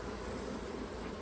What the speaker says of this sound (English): some of those bees are starting to emerge